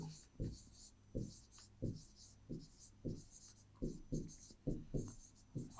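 Pencil strokes drawing lines on paper during an optics experiment, a series of about ten short, evenly spaced scratchy swipes, close and moderately loud.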